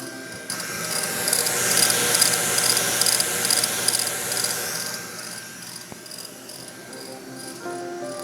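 An Xtool D1 laser engraver runs at close range, giving a continuous high, buzzing whine with faint rhythmic chirps as the head moves, steady throughout with no talking.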